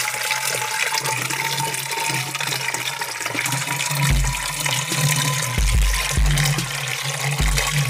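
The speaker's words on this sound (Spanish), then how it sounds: "Tiene sonidos como de agua, ¿verdad? Cayendo." Falling water gives a continuous rushing, splashing hiss like a running tap or flush, loud and steady throughout, with some low thuds near the end and no talk.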